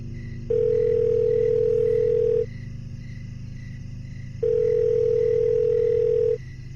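A telephone dial tone on a weak-signal call: two steady, loud single-pitched tones of about two seconds each, separated by a pause, over a constant low hum, with no voices.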